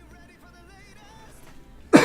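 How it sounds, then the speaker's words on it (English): A single sharp, loud cough bursts out close to the microphone at the very end, after a stretch of quiet room tone. "Sorry for the coughing."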